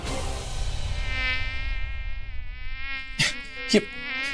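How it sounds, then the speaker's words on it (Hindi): A fly buzzing close by with a continuous whining drone that shifts in pitch as it moves, followed by a couple of sharp knocks near the end, with no talking. "ये मक्खी हमारे बीच आ गई"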